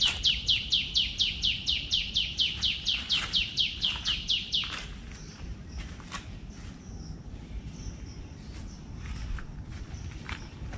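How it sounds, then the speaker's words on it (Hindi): Birds chirping on the grounds of a university visual arts faculty, a rapid series of about twenty bright sharp chirps up front, then sparser faint calls over a low outdoor background. "चिड़िया की आवाज़ कितनी अच्छी है यार ये"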